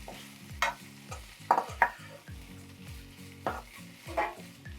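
Pepper liver fry is stirred in a pan, with repeated scraping stirs over a soft sizzle and a few sharper clinks, close by and with no talk.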